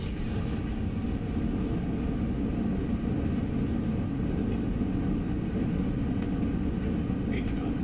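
Roaring engine noise from a Delta 737-700 landing in the X-Plane flight simulator, thrust reversers deployed: a steady, loud, low rumble that holds level throughout with no voices.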